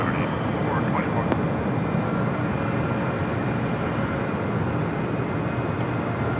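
A passenger jet takes off from runway 24 left at Los Angeles International Airport, its broad engine roar loud and steady throughout, with air traffic control radio voices talking over it.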